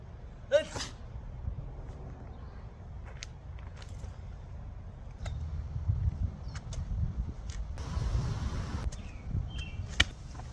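A single sharp human sneeze bursts out near the start, followed by quieter room noise, faint clicks and a few people speaking at low level.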